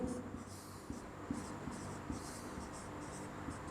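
Pen or pencil writing a geometry proof by hand on paper in a maths lesson, a steady scratching with periodic taps, close and moderately loud, with no talk over it.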